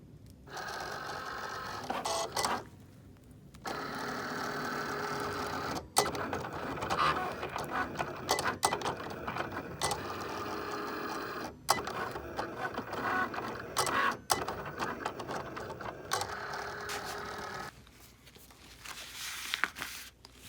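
A Cricut cutting machine cuts a black vinyl sticker sheet, giving a steady mechanical whirring hum with clicks and carriage movements, paused briefly several times, at a low level without talk.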